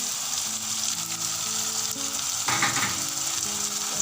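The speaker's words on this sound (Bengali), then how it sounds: "আদা বাটাটা দিয়ে দেবো।" Ginger paste hitting hot oil in a pan for a fish-head muri ghonto, a steady loud sizzle with a brief burst of stronger crackling partway through, no talking.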